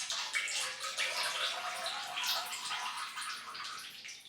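Oil and water draining out of a disassembled Maxpeeding Rods shock absorber from a Lexus IS200, a steady close hissing trickle of liquid with no talk.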